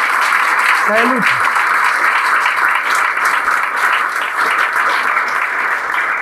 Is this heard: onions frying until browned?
no